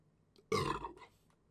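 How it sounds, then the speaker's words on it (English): A single short, close burp from a man playing a football video game, isolated with quiet around it. "Just burped again there, my apologies."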